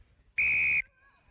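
A referee's whistle at a quadball match, one sharp sustained high blast lasting under half a second, loud and close, then the background goes quiet.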